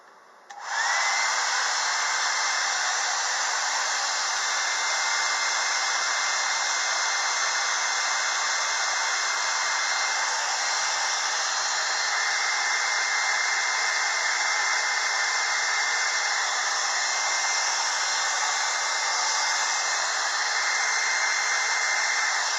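A hair dryer blows steadily on wet white paint on an artwork, switching on abruptly and holding a loud, even whooshing hum close by for over twenty seconds, with no voices.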